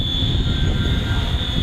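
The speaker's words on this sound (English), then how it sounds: "he's flying his V3 Flywing helicopter 450" A Flywing 450 V3 RC helicopter, flying after repair and an ESC replacement, gives off a steady high electronic whine over a rumbling rotor drone, loud and close for the whole brief moment with no speech.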